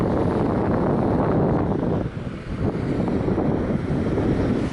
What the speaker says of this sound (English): Not sure if you can hear me, it's quite windy.